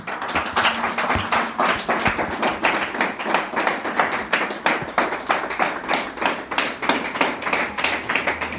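A church congregation claps for the pastors in a fast, even, steady rhythm, loud and continuous with no talk over it.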